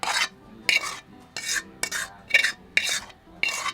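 Cooked seafood for seafood enchiladas scraped and shifted onto a plate with utensils, a series of about six short clattering scrapes in a steady rhythm, close and moderately loud with no talking.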